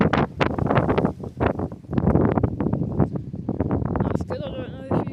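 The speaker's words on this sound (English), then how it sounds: "Sorry if you can't hear me very well because it's quite windy here in Norfolk today." Strong wind buffeting a microphone outdoors in Norfolk beside a lawn mower, with loud, gusty rumbles and bursts throughout while someone talks over it.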